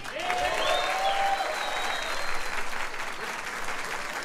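Audience applause at a live comedy roast in Colombia, a loud sustained clapping crowd close by with some whistling cutting through early on.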